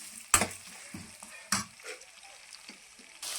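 Soft sizzling of mustard seeds and lentils tempering in oil in a pan, broken by a few sharp scraping and stirring clatters, close and fairly quiet.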